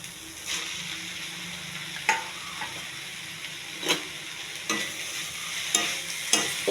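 Spinach (palak) fry being stirred in a pan with chilli powder and turmeric, a steady frying sizzle broken by repeated sharp scraping strokes of the spoon, close and fairly loud.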